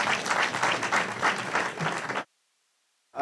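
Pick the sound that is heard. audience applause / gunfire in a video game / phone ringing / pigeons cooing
audience applause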